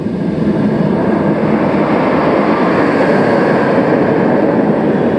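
A B&M floorless roller coaster train, six cars long, roars along its track on Firebird at Six Flags America, a loud, steady rumble that holds at one level throughout with no talk.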